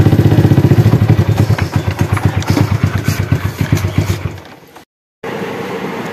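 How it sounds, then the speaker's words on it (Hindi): A motorbike engine fires up and settles into a loud, rapid chugging idle nearby, fading off after about four seconds before a brief dropout and a steadier hum. "वो स्टार्ट होगी बाइक"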